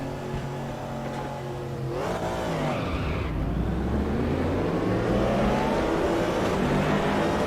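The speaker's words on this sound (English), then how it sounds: "Give us some revs, and then slip the clutch" A Corvette race car's engine revs in RaceRoom, a loud sustained drone that rises and falls in pitch, climbing sharply before easing back and then steadily building again.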